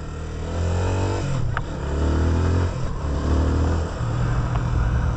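A motorcycle pulls away and shifts up through its gears without using the clutch. The engine drones steadily up close, with its pitch dropping and recovering at each gear change, and no one speaks.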